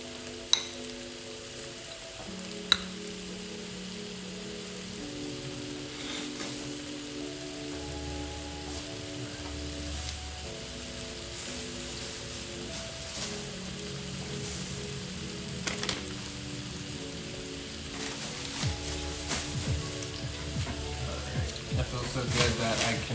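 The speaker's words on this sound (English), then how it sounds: "I'm letting that steak cook. Vegan steak, plant-based." A plant-based vegan steak cooks in a pan with a soft continuous sizzle, quiet and steady throughout, while gentle background music plays over it and a couple of sharp clicks sound near the start.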